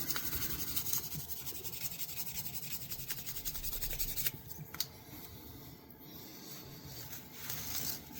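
A vintage shaving brush is polished by hand, with steady close rubbing strokes that make a dry, scratchy swishing, quieter and sparser in the final seconds.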